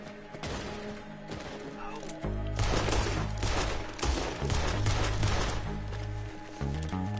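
Gunfire in Red Dead Redemption 2 Online during a chaotic saloon fight, loud, dense bursts of shots layered over heavy game music, with a voice talking at moments.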